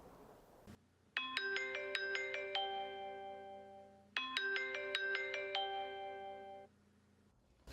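A telephone rings with a melodic electronic chime tune, played twice in a row and then cut off as the call is picked up, clear and close in a quiet room.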